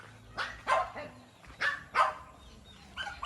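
Several dogs bark in short sharp yips and barks, about six bursts in uneven rhythm, nearby, with low background noise and some human voice around them.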